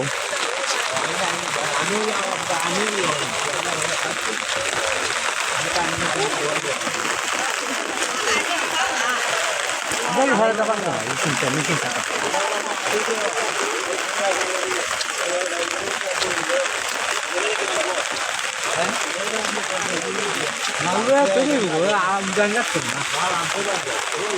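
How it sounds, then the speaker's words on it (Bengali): Heavy rain pours by the Khowai River in Habiganj during flooding, a dense, unbroken hiss with people's voices and talk mixed in beneath it. "প্রচণ্ড বৃষ্টি"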